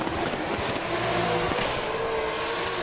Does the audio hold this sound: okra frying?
no